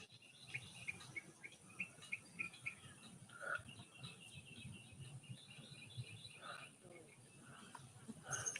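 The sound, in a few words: backyard birds chirping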